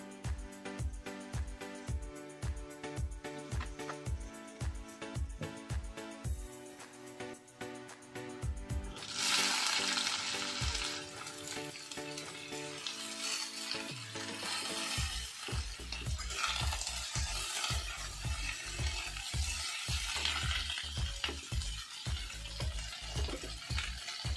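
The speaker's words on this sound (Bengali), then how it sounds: "এখন করলা ভাজাটা বসাবো।" Bitter gourd (karela) frying in a pan, with a steady hiss of sizzling oil under rhythmic background music that carries through most of the stretch.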